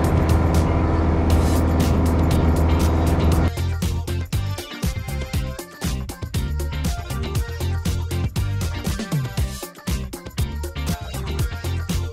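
A light aircraft engine at full takeoff power during a crosswind departure holds a steady, loud harmonic drone. It then turns into a rough, rumbling roar broken by frequent knocks and thumps, with no talking.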